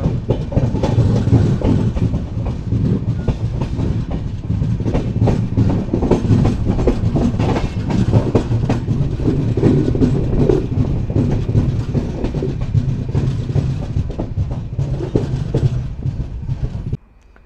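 The Mandovi Express rolls along the Konkan line, a loud, steady rumble with continuous clickety-clack of wheels over rail joints, close and sustained until it drops off at the very end.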